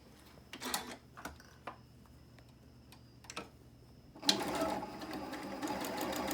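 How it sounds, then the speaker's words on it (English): A sewing machine stitches quilt fabric, starting with a few scattered clicks, then settling into a steady, close, whirring run of rapid stitching. "I'm going to go back to the sewing machine"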